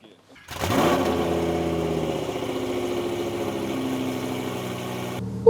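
A Lamborghini Huracan engine fires up with a sharp rising roar, then settles into a loud, steady rumbling idle nearby that holds for several seconds before cutting off abruptly.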